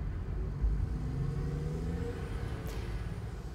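A car is being driven, producing a constant low interior rumble of engine and tyres with a brief thump near the start, loud and unbroken, and no one speaking.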